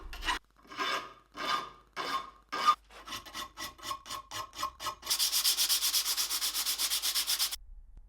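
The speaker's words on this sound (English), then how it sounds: "I'm going to do all by hand. Only file and some sandpaper." Hand file and sandpaper worked over an old German axe head, a run of separate rasping strokes that quicken into a fast, steady scrubbing, close and clear with no talk.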